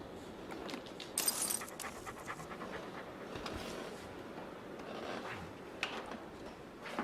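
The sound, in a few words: pet dog panting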